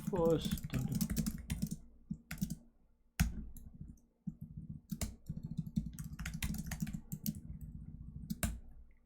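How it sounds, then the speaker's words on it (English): Code being typed on a computer keyboard during a Leetcode contest, with quick bursts of close clicking keystrokes and short pauses while a voice talks quietly in between. "let's just type it out for now"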